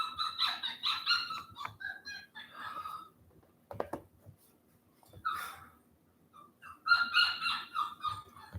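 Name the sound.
dog whining in a crate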